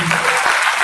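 A church congregation claps together during an evening worship service, a loud, dense burst of applause filling the room, with a voice faintly present underneath.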